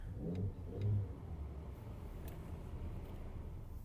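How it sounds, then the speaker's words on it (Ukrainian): A Volkswagen Golf 5 1.6 MPI car engine runs steadily with a low rumble, swelling briefly twice early on as if lightly revved, then settling into an even idle. "Двигун запускається чудово, оберти не плавають."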